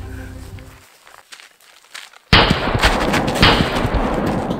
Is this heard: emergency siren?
no